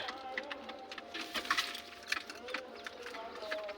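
Pigeons in a loft give soft coos amid a busy, noisy backdrop of rustling and chatter, the calls faint and partly masked under mid-level clutter.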